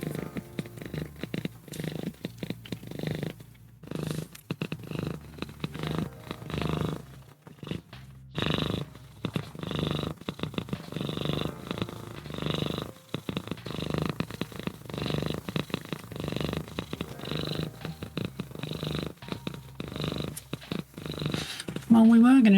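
A cat purrs in a close, low, rhythmic rumble that pulses on and off for a long stretch, with a voice speaking over it at times.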